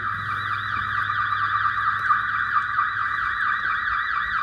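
An electronic alarm wails inside a prefab folding-house dealer facility, a loud, continuous warbling tone that rises and falls in rapid regular sweeps with no voices over it.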